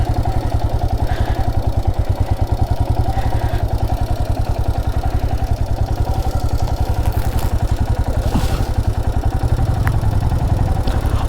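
A motorcycle engine runs steadily throughout with a constant pulsing idle-like thrum and some clatter, close and loud, while the rider looks for a place to park near Gandikota and Belum Caves in Andhra Pradesh.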